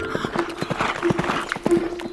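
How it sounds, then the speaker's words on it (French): Hooves clop in a quick, even galloping rhythm under a sustained musical tone, moderately loud and close in a children's song. "Fais le cheval blanc qui galope face au vent."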